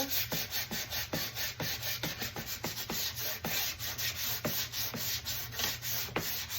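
Steady, rhythmic rasping of 220-grit sandpaper rubbed back and forth on an old wooden sewing table drawer, close and continuous with quick repeated strokes.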